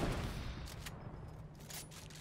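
Gunfire in the Fortnite battle royale game, a steady spatter of shots held low in the mix throughout, fairly faint and continuous without clear separate bursts.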